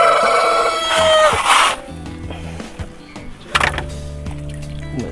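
A rooster crows loudly and close by, one long drawn-out call followed by some clattering and muffled household noise.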